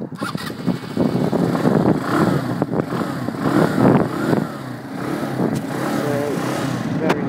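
A TGB R125X motorcycle engine starts and runs at a rough, uneven idle close by, with a few small blips of revs, and a voice speaks briefly over it.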